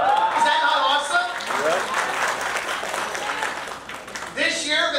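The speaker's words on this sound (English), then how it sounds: "Why are you clapping about that?" A church congregation bursts into applause, sustained clapping from a crowd that swells and then fades, with a voice talking over it and another round starting near the end.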